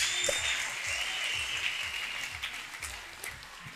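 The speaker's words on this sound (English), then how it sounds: "Let us clap for Master Jesus." An audience applauds in a steady, sustained wash of clapping at a church gathering, fairly faint and even, with a low rhythmic thumping beneath it.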